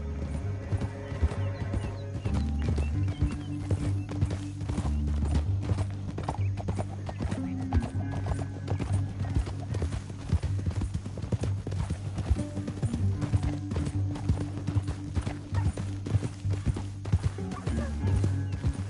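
Horse hooves clip-clop at a steady walking rhythm in Red Dead Redemption 2, riding over a continuous low musical score, with an occasional snort or whinny, and no talk during the passage.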